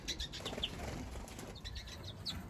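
Canaries flap their wings in a bird room set outdoors to harden feathers after the moult, giving soft repeated fluttering bursts close by, with faint chirps over a steady low background hum.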